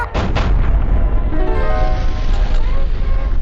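A battleship-sized artillery gun, a full-scale Yamato-class cannon built in the video game Sprocket, fires with a loud heavy boom that rolls into a long low rumble.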